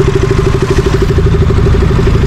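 A motorcycle engine idles close by while being parked on a trip, a loud, steady low chugging with an even rapid pulse and no voices over it.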